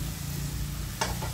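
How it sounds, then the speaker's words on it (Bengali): Home-grown vegetables and spices sautéing uncovered in a pan for a small river fish curry, a steady crackling sizzle with a brief stirring scrape near the end, no voices. "এখন কিন্তু আর একটু কষিয়ে নেব, এটা কিন্তু আমি ঢাকবো না।"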